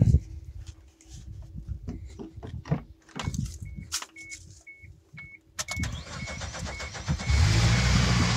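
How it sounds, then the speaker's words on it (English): A car engine is cranked with a compact 1200A lithium jump starter pack, with door and dashboard chimes and clicks first, then a whirring crank that catches and settles into a close, steady idle. "I don't think the car itself is happy, but it did start right up"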